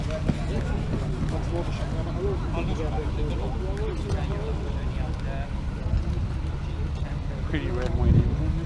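Steady wind buffets the microphone outdoors at a motorcycle show in Swansea, a constant broadband rush with gusts that swell near the end, while people chat underneath.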